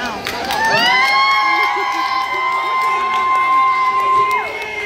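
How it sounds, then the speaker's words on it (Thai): A lively crowd at a live road show concert cheers loudly, with high drawn-out whoops and shouts ringing over a constant roar of voices. "ขอเสียงปรบมือให้กับน้องมิวทีมงานน้องปาริชชี"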